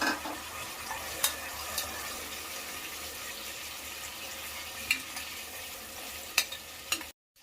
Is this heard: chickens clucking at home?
no